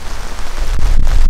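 Heavy rain pours outdoors near a swollen river, a loud, dense, steady hiss of drops hitting surfaces close by with no voices.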